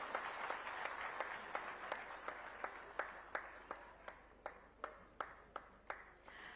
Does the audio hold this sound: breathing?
no